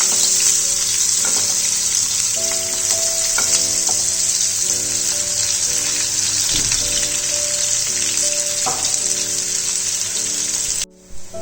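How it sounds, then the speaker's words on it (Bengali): Onions fry in oil toward golden brown, a dense continuous sizzle that fills the scene, broken by occasional stirring scrapes and clinks, then cutting off abruptly near the end. "পেঁয়াজগুলো সব গোল্ডেন ব্রাউন হওয়া পর্যন্ত ভালো করে ফ্রাই করে"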